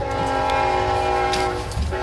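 Loud train horn blaring steadily for about two seconds as a train passes close by, with low rumbling wheels and rail noise underneath.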